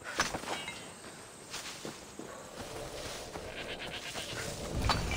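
Piglet squeals and grunts from the video game Assassin's Creed Odyssey, sounding close and repeated over soft footsteps and ambient outdoor game noise.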